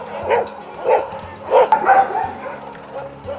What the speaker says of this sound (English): the dogs sense danger as they start barking unusually.